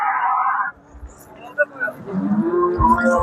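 A dairy cow at a village livestock market gives one loud moo, followed by quieter crowd chatter and people talking nearby.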